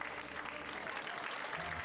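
Steady applause from an audience fills the hall as Alison is crowned Miss Pays de Caux 2013 at a French regional beauty pageant, dense clapping continuing throughout without a break.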